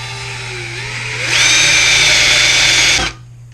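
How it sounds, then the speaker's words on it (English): A stepper bit drilling through material with a power drill, starting as a lower whir and rising into a loud, steady high-pitched cutting whine for about two seconds before stopping abruptly, with a faint background hum underneath. "I'm just going to use a stepper bit."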